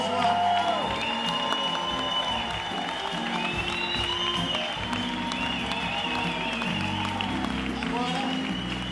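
Audience applause and cheering fill a live jazz concert at SESC Pompeia, a dense sustained clapping with whoops, while someone speaks over the crowd on a microphone.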